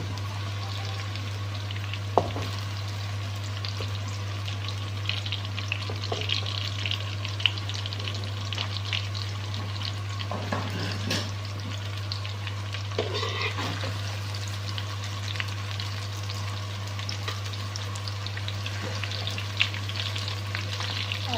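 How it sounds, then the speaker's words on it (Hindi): Onions sauté lightly in a pan for a kofta curry, a steady close sizzle and crackle that runs unbroken throughout with a low constant hum beneath and no talking. "ये देखो प्याज मेरा हल्का हल्का सौते हो गया।"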